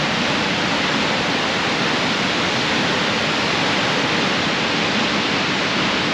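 A waterfall roars as a dense, steady wash of rushing water. The sound is loud and close and stays unbroken throughout, with no talking.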